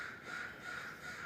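Crows caw steadily in an outdoor garden in February, the calls continuous and moderately distant, filling the whole moment with no talking.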